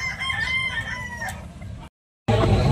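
A gamecock at a Tabunok auction crows nearby, one loud drawn-out cock-a-doodle-doo, followed by a brief silence and a burst of rough noise.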